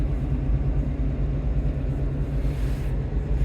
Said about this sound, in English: we're giving this little Toyota Hilux workmate a bit of a tune-up on the dyno